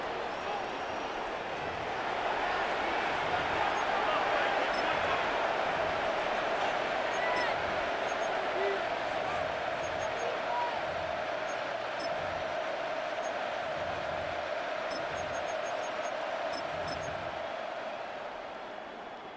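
A large Madden NFL 26 video game crowd roars steadily during a two-point conversion, a dense wash of cheering that swells slightly in the middle and eases toward the end, with faint game sounds underneath.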